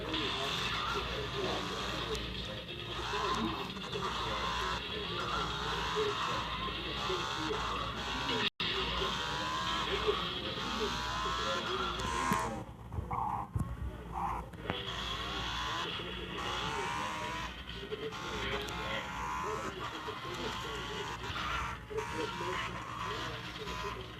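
A motorcycle engine drones in the mobile game Gangstar Vegas, a continuous buzzing motor hum with small pitch shifts and brief dropouts, fairly quiet and steady across the clip.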